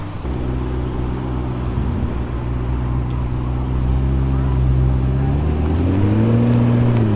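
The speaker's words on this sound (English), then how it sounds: "a McLaren 650S just rolled in" A McLaren 650S supercar rolls in at a Cars & Coffee meet, its engine a steady low drone close by that swells and climbs in pitch toward the end, with background chatter from the crowd.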